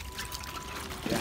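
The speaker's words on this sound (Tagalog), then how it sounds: "bakit daw inilulubog namin sa tubig?" Eggplants are dipped into water: soft, faint trickling and sloshing of liquid, with a brief splash near the end, in a quiet setting.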